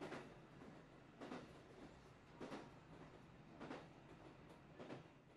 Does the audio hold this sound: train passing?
yes